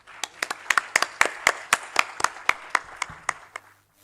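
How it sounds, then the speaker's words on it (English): A small audience claps for about four seconds, with sharp, distinct hand claps in a fairly regular rhythm that thin out and stop. "Let's welcome them with a huge round of applause."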